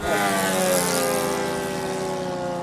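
Radio-controlled model airplane at a model plane air show on Long Island, a steady loud propeller-engine drone with harmonic whine holding throughout, close and continuous with no talk.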